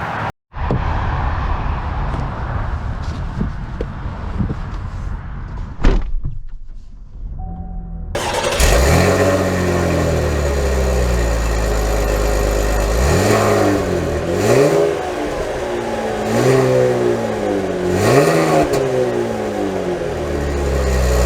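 A 2024 Chevy Camaro 1LT V6 cranks and starts, settling into a steady idle before a series of sharp revs rise and fall repeatedly, loud and close, with no talking.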